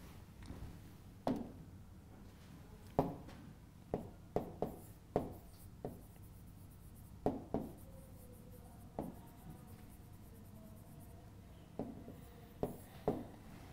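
A pen writing an exam-style answer on paper, quiet scratchy strokes and taps in irregular bursts, close and faint with no talking.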